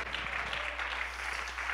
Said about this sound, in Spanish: Dele palmas al Señor y a su nombre